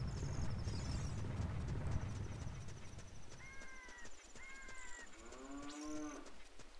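A cow moos a few times with low, drawn-out calls over a noisy, rushing background and some high chirps, from the game The Legend of Zelda: Ocarina of Time 3D.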